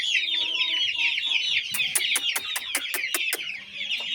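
A prize breed of rooster calls out close by, a steady clucking phrase followed by a sharp burst of about nine evenly spaced loud clicks or claps near the end.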